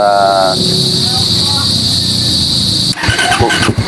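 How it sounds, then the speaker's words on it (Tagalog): Engine running at a steady idle to warm up before an oil change: a loud, continuous mechanical drone close by, with a voice talking over it. "kainitin muna natin yung makina"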